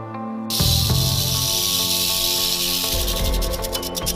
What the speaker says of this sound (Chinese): 接下来我们再听听实验中响尾蛇发出的声音。